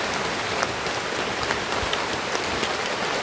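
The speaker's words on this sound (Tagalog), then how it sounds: "Abutan kami ng ulan." Steady rain falls in a dense, even hiss with scattered nearby drops tapping out now and then, constant throughout and with no voices.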